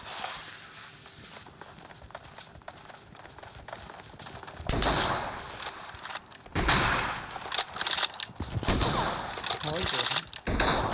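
Gunfire and a grenade blast in a BGMI 2v2 team deathmatch with M24 sniper rifles: quiet shuffling gives way to loud, dense bursts of shots and booms that come in waves, with voices in the background.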